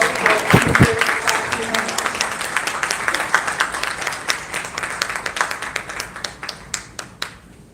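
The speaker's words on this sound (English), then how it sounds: "Let's have a round of applause for" Applause at a film festival award ceremony: a crowd claps steadily, then the clapping thins into fewer, sharper individual claps that fade out toward the end, with a short voice near the start.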